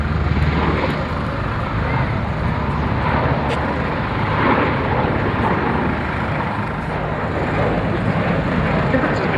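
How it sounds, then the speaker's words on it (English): A V-22 Osprey tiltrotor aircraft flies at an air show, producing a steady, broad engine and rotor roar that holds at constant loudness throughout, with faint voices mixed in. "One of the things that strikes you while watching the Osprey fly is how quiet it is"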